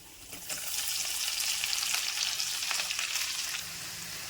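Sliced ginger, garlic and onion hit hot oil in a pan for chicken mappas, a bright hissing sizzle swelling quickly and holding steady for several seconds, close and fairly loud, with light stirring and no speech.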